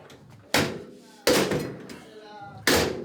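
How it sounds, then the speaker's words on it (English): A door banging shut three times, each a loud close slam with a short decaying rumble, separated by quieter gaps where faint voices can be heard. "Did you bang on the door?"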